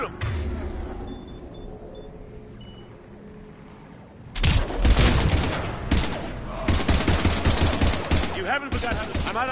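Rapid automatic gunfire in Mass Effect 3 after a quieter stretch of game ambience, with dense sustained bursts breaking off briefly before starting again, loud and close.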